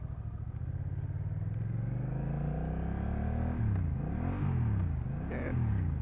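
A 2024 Honda Rebel 1100 motorcycle accelerating, engine note rising steadily, then dipping and climbing again through gear changes, close and continuous.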